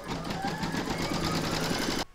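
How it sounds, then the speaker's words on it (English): Embroidery machine stitching a round on fabric laid over batting for an in-the-hoop stacked pumpkin, a steady close whirring hum with rapid needle pulses that stops abruptly near the end. "Pop that into your machine and stitch round number 3 to secure it."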